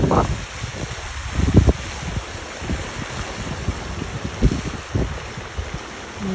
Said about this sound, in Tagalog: Marinig mo lang yung hangin tsaka yung mga ito.